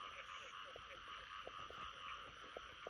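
Frogs croaking at night during a nighttime frog hunt, a steady chorus of repeated short croaks pulsing over a dense, continuous insect-like drone, with no talking.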